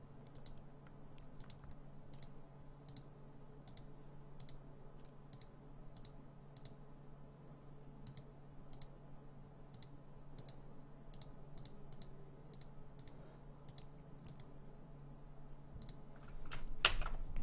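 Computer keyboard shortcuts and mouse clicks, crisp and close, a steady scatter of isolated taps against a faint hum, ending in a quick burst of clicks, with no voices.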